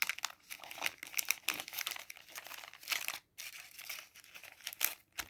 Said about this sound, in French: je vais la mettre dans l'enveloppe beauté, juste au cas où